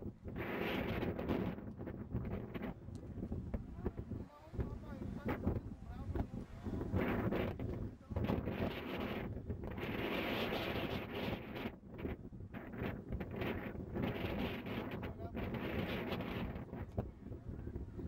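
Strong wind buffets the microphone in loud, gusting roars that rise and fall, with indistinct voices partly buried beneath.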